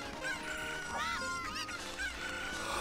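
Chickens squawk and cluck in The Legend of Zelda: Ocarina of Time, several wavering bird calls rising and falling over steady game background sound, with no talk.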